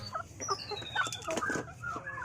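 Several hens cluck and cackle close by in short, irregular bursts at a chicken collector's yard, with soft farmyard chatter underneath.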